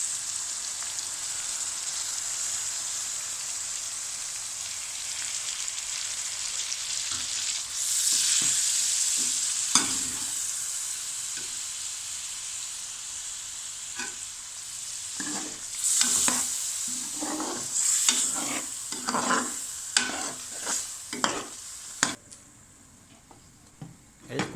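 Chicken tikka karahi frying in a pan while being stirred: a steady close sizzle throughout, with scraping and knocking strokes of a spoon against the metal growing busier and more clattery toward the end, no voices.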